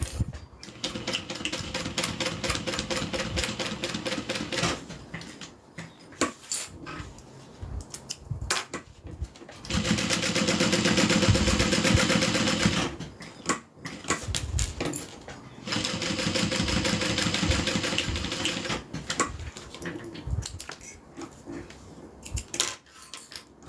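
A sewing machine stitches quilted fabric in three sustained runs of rapid, steady, close mechanical chatter, separated by pauses filled with handling clicks and small rustles.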